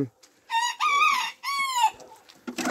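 Hens cluck and squawk up close in a few drawn-out, loud calls, one after another, followed by some faint scuffling.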